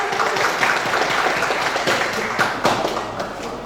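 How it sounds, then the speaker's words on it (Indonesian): An audience applauds Pak Edo at a public session, a short burst of fairly loud, dense clapping with murmuring voices mixed in. "Kita beri tepuk tangan dulu teman-teman."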